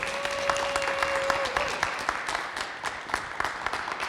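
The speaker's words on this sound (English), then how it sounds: "Come on, let's clap it up for her." An audience breaks into steady applause at a talk event, many hands clapping close together at moderate loudness. A single tone sounds briefly at the start.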